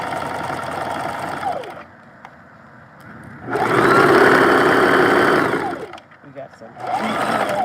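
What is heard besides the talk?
sewing machine back-stitching and forward-stitching fabric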